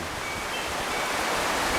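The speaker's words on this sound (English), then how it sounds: "it's raining again." Rain falling, a dense even hiss of broadband noise close by that swells slightly louder toward the end, with no talking.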